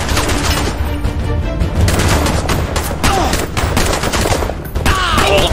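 Rapid, loud gunfire bursts in the Bright Memory video game, dense overlapping shots and booms filling the scene with brief gaps, continuing without pause.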